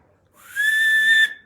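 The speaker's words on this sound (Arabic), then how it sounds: "مين بيعرف يصفر؟" A person whistles one sustained, clear, slightly rising note lasting about a second, close and fairly loud, with quiet room sound before and after.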